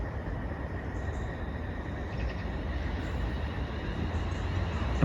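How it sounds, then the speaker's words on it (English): A Class 350 train pulls into a Chase Line station on the route toward Cannock, giving a steady low rumble and wheel noise that builds slightly toward the end, with no talk. "Train incoming to take us to Cannock."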